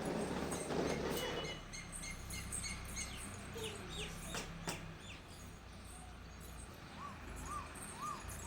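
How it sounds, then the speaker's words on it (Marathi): A koel sings from a terrace garden with coconut trees, its rising whistled notes repeating toward the end, faint amid other scattered bird chirps and a soft rustling background. "कोकिळा पण गाते बघ कोकिळा"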